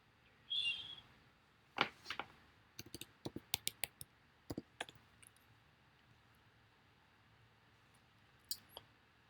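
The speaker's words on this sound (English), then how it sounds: "I need to type in the password, temporary password over here." Sharp clicks of a computer keyboard as a password is typed during a remote lecture session, in an irregular burst of about a dozen distinct taps with short pauses, one faint squeak near the start, otherwise quiet.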